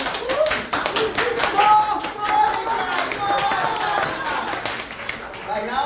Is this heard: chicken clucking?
no